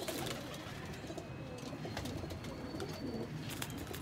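Ferozpuri pigeons coo softly in a coop, a faint, steady murmur of calls with occasional chirps throughout and no voices over it.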